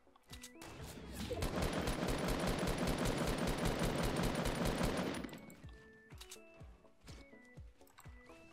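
Rapid automatic gunfire in Fortnite, a sustained burst of fast, loud shots lasting a few seconds, followed by sparser single shots and quieter game sounds.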